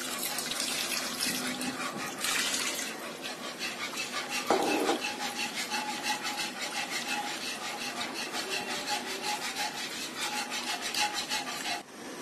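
A whisk stirs a milk mixture in a pan over medium heat for a dessert, giving a steady scraping, swishing rhythm that runs continuously and evenly throughout.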